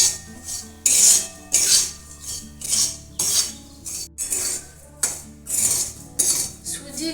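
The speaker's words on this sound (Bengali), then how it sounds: "সুজিটাও আমি ভালো করে ভেজে নেব।" A metal spoon scraping and clinking against a pan while semolina is stirred and fried for gujiya filling, in repeated bursts of bright scraping with short pauses between strokes, close and fairly loud.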